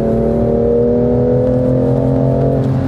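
A BMW M2 Competition engine pulls hard under acceleration, a loud close-up drone with its pitch climbing steadily and smoothly the whole time.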